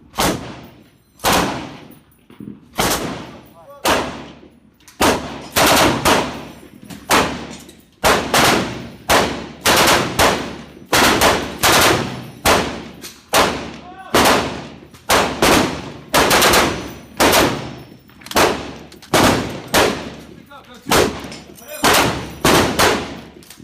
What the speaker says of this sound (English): Michel, Rachel, you can start shooting.